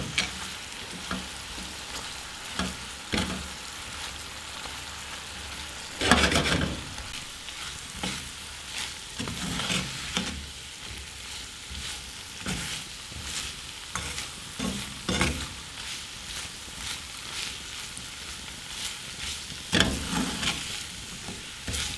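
Thickening sugar syrup for candied orange peels stirred in a pan over low heat, giving irregular scraping strokes over a soft bubbling sizzle, with a few louder clattering passes.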